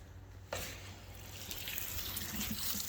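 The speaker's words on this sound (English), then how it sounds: "Alright, let's get the hose on that." A garden hose sprays water onto a used lawn mower tipped on its side, a sudden steady hiss of spray that starts after a brief quiet moment and keeps running.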